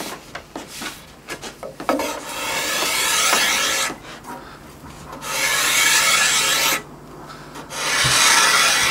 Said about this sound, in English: Now we're just doing nice smooth pulls up with the scraper, not wiggling it around at all.